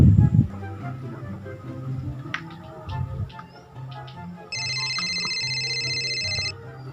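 An unanswered phone call rings through a handset speaker as a repeated electronic tone, faint beside louder background clatter and room noise, with one long tonal burst near the end.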